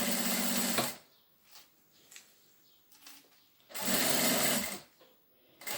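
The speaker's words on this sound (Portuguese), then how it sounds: "Começo a cozer aonde comecei ou aonde terminei a outra costura." Sewing machine stitching an embroidered bag, with two loud bursts of fast, buzzing stitching separated by a quiet pause with small handling sounds, close to the microphone.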